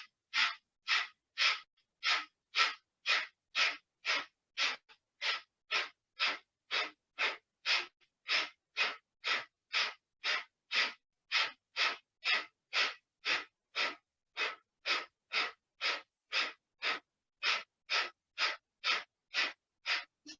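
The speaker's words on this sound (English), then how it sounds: "begin breath of fire" Rapid, rhythmic breath of fire during a yoga flow: sharp forceful exhales pulse steadily about twice a second for twenty seconds, close and clear with no talking.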